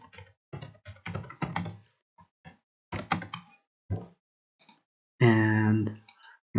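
Typing on a computer keyboard: bursts of clicking keystrokes in irregular clusters separated by silent pauses, close and clear, with a brief sustained voiced tone near the end.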